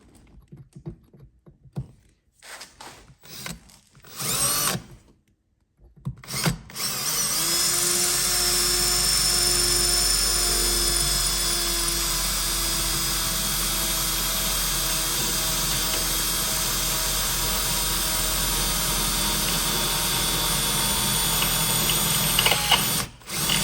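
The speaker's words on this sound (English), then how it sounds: "we're just gonna go ahead and drill it out" A power drill bores out rusted seat bolts in the cab floor of a rough Ford Ranger. After a few short, stuttering bursts, it whines loudly and continuously for over fifteen seconds, close up, with no talking.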